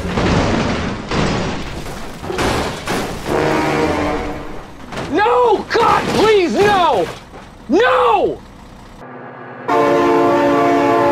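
A train in a vehicle crash video game sounds its horn in several loud, wavering blasts over rumbling rail noise, with excited voices talking between the blasts.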